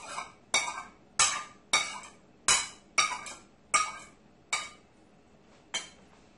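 Spoon scraping and clinking against a bowl while a mixture is stirred into tuna fish, about nine sharp, evenly spaced metallic knocks, each fading quickly, close and clear with no talk.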